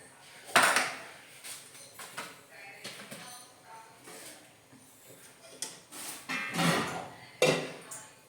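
Knife chops on a cutting board as onions and tomatoes are cut for a paneer gravy in a home kitchen, irregular sharp knocks and clatters spaced a second or so apart, fairly close and moderately loud.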